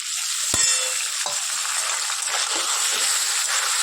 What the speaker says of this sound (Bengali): আলুটা ভাজা হয়ে গেছে, দেখছো?